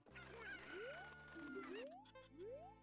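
Chickens cluck and squawk in The Legend of Zelda: Ocarina of Time, a run of video game fowl calls with rising, sliding tones over a steady background hum.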